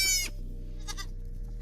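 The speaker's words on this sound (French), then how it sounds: "Donc voilà pour les chèvres." Goats bleat at close range: one loud, clear bleat opens, then a softer second call follows over a steady low hum.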